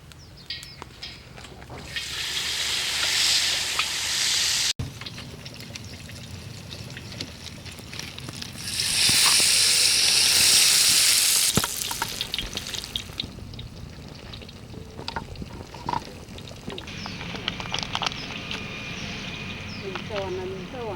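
Banana pieces deep frying in hot oil, a bubbling sizzle that swells and fades in waves with spoon and pan noises, while a person talks over much of it.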